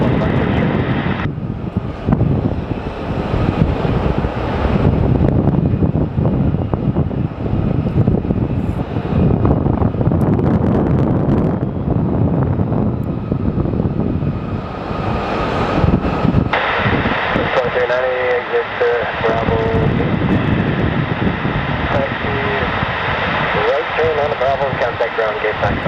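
Airplanes passing at Sky Harbor Airport, a loud continuous roar of aircraft engines with wind buffeting the microphone, swelling and shifting as jets move by, with people talking over it.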